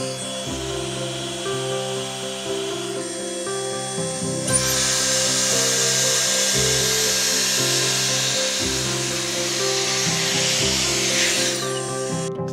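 Dyson Airstrait hair dryer-straightener blowing air through hair, a steady close whirring hum with a brighter rushing airflow that swells partway through and runs continuously over motor tones.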